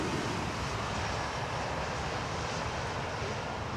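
The Qatar Amiri royal flight aircraft arrives on runway 27R at London Heathrow, giving a faint, distant, even engine rumble that stays unbroken throughout with no talking.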